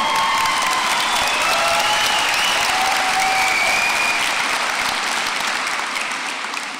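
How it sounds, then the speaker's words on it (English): Graduation commencement audience applauding and cheering, a broad, sustained wash of clapping from a large crowd with scattered high whistles and shouts, easing off slightly at the end. "you hear the cheers for you guys. You hear your families cheering for you"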